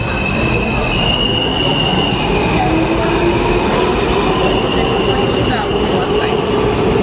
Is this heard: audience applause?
no